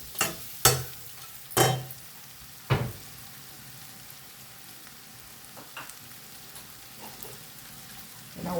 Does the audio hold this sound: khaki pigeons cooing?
no